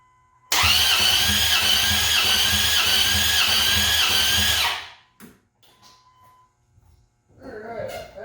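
A truck engine cranks steadily on its starter for about four seconds during a wet compression test for suspected worn piston rings, a loud, even rhythmic whirr that stops abruptly, followed by faint clicks and a short voice.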